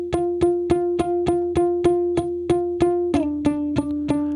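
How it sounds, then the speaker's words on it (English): Layered guitar and synth tones blend into a single bright, plucky instrument, repeating an even stream of short, evenly spaced notes that shift pitch near the end, loud and alone. "So it's like a mix between guitar and synth."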